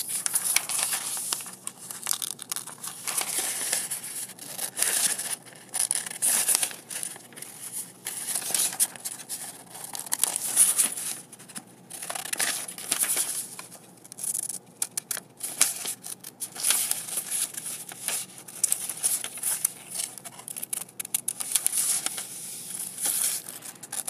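Scissors snip and crinkle through a paper net of a rectangular prism in a long run of irregular, fairly quiet cutting and rustling close by, with no talking.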